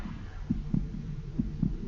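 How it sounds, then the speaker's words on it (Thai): A steady double-thump heartbeat pulses twice within two seconds, muffled and low over a soft ambient hum, in the horror video game The House 2. "เสียงหัวใจก็เต้นตึกตัก"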